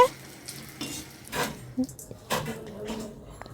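Nimki, a Bengali flour snack, frying and being stirred in hot oil gives a soft sizzle with a few scraping, clinking strokes, close up, under intermittent speech.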